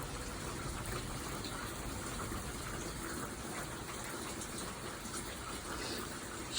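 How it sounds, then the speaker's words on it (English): Hail and rain pour down steadily during a thunderstorm while water floods across a driveway, a constant dense hiss and patter with no voices. "Lots of nice hail."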